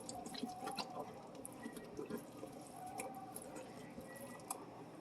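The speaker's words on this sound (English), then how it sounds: "Let's give it a rinse here." Running water rinsing a Thanksgiving turkey in a kitchen sink, a soft continuous splash with wet squishing and dripping, faint and close, with no voices.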